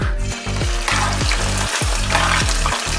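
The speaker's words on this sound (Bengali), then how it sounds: "যতক্ষণ না লালচে রং আসছে ততক্ষণ পেঁয়াজটা একটু ভাজবে।" Grated onions fry in white cooking oil with a steady, loud sizzle, broken by a few stirring scrapes spaced through the stretch; there is no talking.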